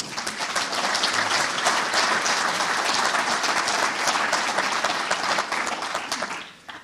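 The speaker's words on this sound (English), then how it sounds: "Clap for yourselves." Sustained, loud applause from a lecture audience at a community development memorial lecture, many hands clapping in a dense, even roar that holds steady for several seconds before tapering off at the end.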